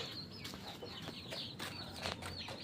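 Several chickens cluck and squawk close by in quick overlapping bursts, with a faint steady background hum.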